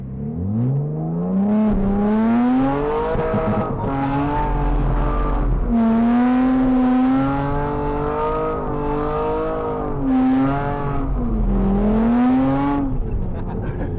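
A car drifting at a driving experience, engine revving hard with long rising and falling pitch sweeps and tire squeal, loud and continuous for the whole stretch.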